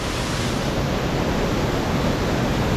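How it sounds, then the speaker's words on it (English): Mill Creek Falls roars at unusually heavy flow after historic rains, a dense, constant rushing wash of water that stays loud and unbroken throughout, with no voices. "This is definitely the most flow I've ever seen here"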